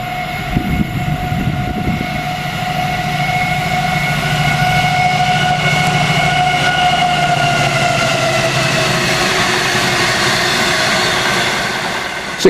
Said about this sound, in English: Making the customary racket again, 70005 shifts the crew to Mount Sorrel through Tamworth.